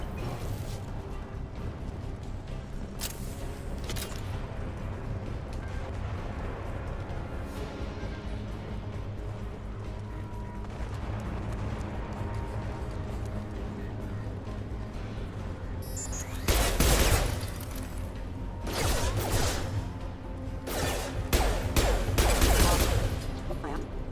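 Bursts of gunfire from the video game Mass Effect Legendary Edition, with scattered shots early on and heavier, louder volleys toward the end over a steady background of game sound.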